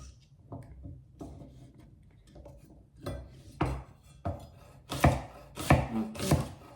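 A knife chops through asparagus on a cutting board, scattered soft cuts at first, then louder, quicker thuds toward the end.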